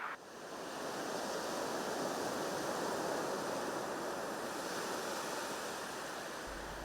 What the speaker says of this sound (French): Au son des vagues, source d'inspiration